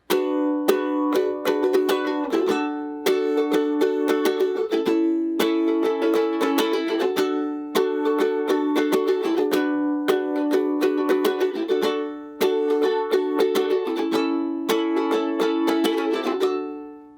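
A ukulele strums a short run of chords in a steady rhythm with brief pauses between phrases, played alone and close: the outro of a song.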